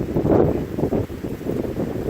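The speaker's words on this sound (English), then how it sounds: "Here comes the wind again." Strong gusting wind in a severe storm buffets the microphone with a loud, rough, continuous roar and no voices.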